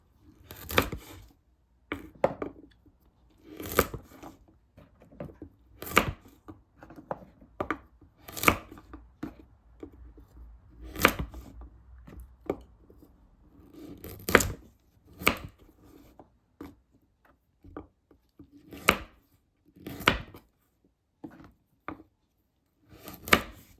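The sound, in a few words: chopping peeled taro stems with a knife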